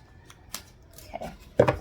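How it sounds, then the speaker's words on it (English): A Millennial Loteria tarot deck being shuffled, with a few faint card flicks followed by a louder, closer burst of riffling cards at the end. "I'm going to shuffle a little bit."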